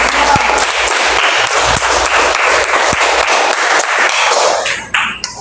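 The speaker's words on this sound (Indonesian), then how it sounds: "Ya, baik sekali. Tepuk tangan." Classroom students clap together on cue, a loud, close burst of dense applause with a few sharper individual claps that stops abruptly near the end.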